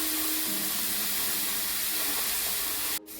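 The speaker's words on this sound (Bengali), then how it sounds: "ভালোভাবে মিক্স করে মশলাটা কষিয়ে নিতে হবে যতক্ষণ না তেল ছাড়ছে" Spice masala for a hilsa curry sizzling and frying in hot oil, a steady close hiss running throughout with no talk, cutting off sharply near the end.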